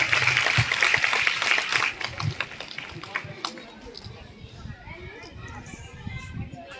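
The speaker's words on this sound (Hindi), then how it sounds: "जोरदार तालियां मैडम के लिए।" Applause at a village school's Republic Day celebration, clapping from children and staff that is strongest at first and then fades into scattered claps and chatter from kids.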